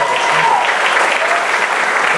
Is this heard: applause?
yes